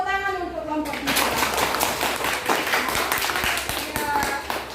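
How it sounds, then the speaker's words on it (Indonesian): Schoolchildren in a classroom clap together for a student group, a brief burst of rhythmic hand claps close by, with children's voices chattering over it. "tepuk tangan untuk kelompok kita"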